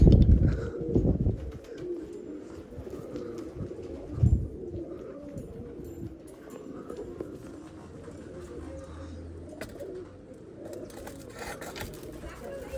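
Pigeons in a netted loft coo softly in low, throaty bursts against a steady background hum, with faint talk and occasional bumps nearby.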